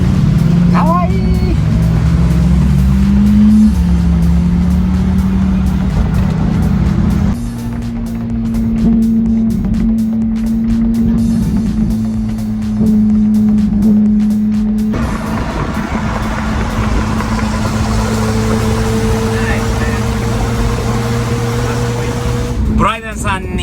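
A Subaru Sambar kei truck cruises a Texas highway, its small engine droning steadily from inside the cab with shifting tones as it changes speed, while people talk over the noise throughout.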